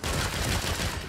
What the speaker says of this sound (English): Ruby, why am I seeing gunfire at the back of that convoy